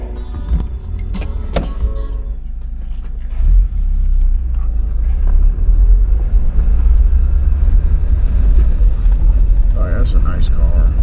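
A 1999 Mazda Miata engine, started without its broken key, cranks with a few sharp clicks and catches, then idles as a low steady rumble with wind noise and some handling sounds.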